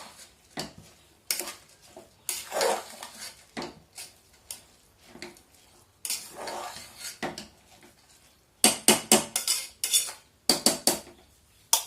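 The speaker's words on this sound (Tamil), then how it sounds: "இப்போ வந்து பார்த்தீங்கன்னா ஒரு கரெக்டாக கிளறிக்கலாம்." Metal utensil scraping and clattering against a pot while thattai payaru (black-eyed pea) biryani is stirred, with irregular bursts of clinks and scrapes, close and fairly loud, no talk.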